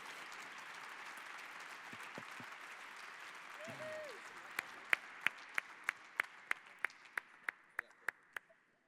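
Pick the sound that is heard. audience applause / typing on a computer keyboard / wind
audience applause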